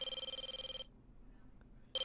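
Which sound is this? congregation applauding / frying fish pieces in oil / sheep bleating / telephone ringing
telephone ringing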